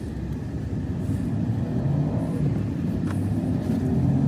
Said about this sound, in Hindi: तो अब चलते हैं, निकलते हैं और गाड़ी चलाते हैं।